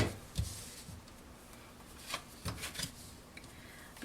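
Tarot cards being shuffled by hand, giving several soft riffling bursts and light taps at an irregular pace, close up and fairly quiet with no talking.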